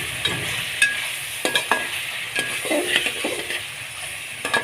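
Chicken karahi with ground cumin and black pepper frying in a pan, a soft steady sizzle broken by scraping stirs and occasional light clinks of a utensil against the pot.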